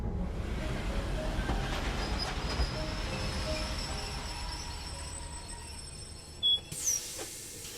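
Train rumbling past in a video game, with a steady rolling roar, faint wheel squeal and clatter along the track, then a few sharp high squeals and knocks near the end as it fades.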